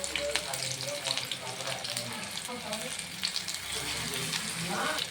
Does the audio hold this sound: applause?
no